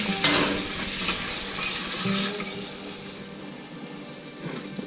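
Vegetables sizzle and fry in a pan as dashi cooking liquid goes in, a steady close hiss with a louder burst near the start and light stirring clatter.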